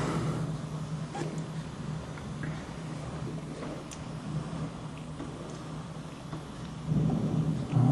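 Thunder cracks close to an apartment block during a storm over Łowicz. A loud, continuous rumble rolls under steady rain and swells again near the end.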